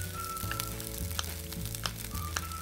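Rice frying in a wok over high heat with salted fish and kale, a steady, loud sizzle with light scraping from stirring, heard up close with no talk.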